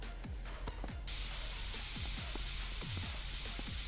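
A spray can in the video game Internet Cafe Simulator 2 lets out a loud, steady hiss starting about a second in and running to the end, preceded and accompanied by soft low thumps.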